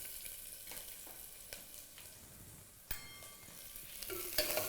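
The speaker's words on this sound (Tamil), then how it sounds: "இப்போ நான் வெங்காயத்தை வந்து இதில் போட்டு தாளிக்கிறேன்" Onions sizzle and fry in a pan as they are tempered, with a low steady crackle, a few stirring scrapes and utensil clinks, close and fairly quiet with no talking.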